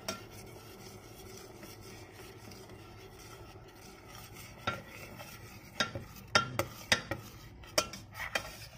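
Thai green curry paste is stirred in a pan with a low sizzle underneath. A utensil scrapes and clinks against the metal, sparse at first and then in quicker, louder strokes during the second half, with no talking.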